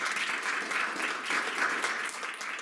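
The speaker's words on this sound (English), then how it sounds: "this round of applause is for you guys" An audience at a hypnotist's show in a library claps in a full, continuous round of applause that stays dense and steady from start to end.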